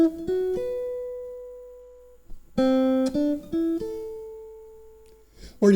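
A jazz guitar plays a few plucked notes and short slides in two brief phrases separated by a pause, clear and close with ringing decays.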